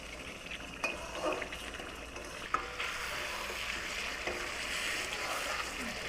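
Assamese chicken curry with spices is stirred in a pan, giving a quiet, steady sizzle broken by a few clear scrapes and taps of the spoon.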